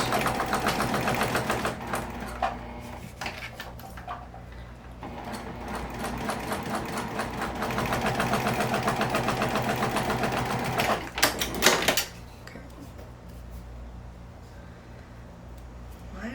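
A sewing machine stitches a fabric sling bag in a long steady run of rapid mechanical whirring and clatter, close and loud, then briefly stops with a few clunks before a quieter hum near the end.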